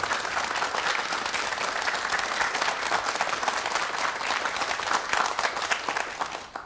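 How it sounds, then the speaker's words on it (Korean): A studio audience on a Korean morning TV show gives sustained, lively applause for a professor's lecture, dense clapping holding steady before tapering off at the very end. "교수님의 강의 박수로 청해 듣겠습니다."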